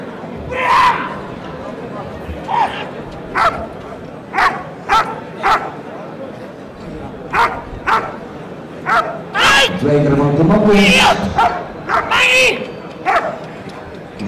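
A dog barks repeatedly in sharp, irregular bursts during a KNPV police dog trial, amid crowd noise and someone talking, with some yips mixed in.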